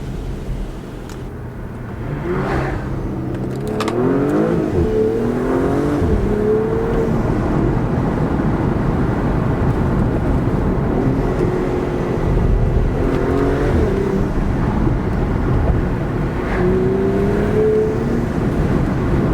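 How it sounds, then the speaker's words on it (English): A Porsche Panamera 4S is heard from inside the cabin on the road, its engine note climbing and dipping through gear changes over a steady road roar, with no talking. "You get a little bit of burbling whenever you go on the downshifts as well."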